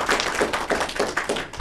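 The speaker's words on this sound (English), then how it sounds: "Give him a round of applause" A short burst of lively clapping from a small crowd, a brisk, steady patter of hands at moderate volume.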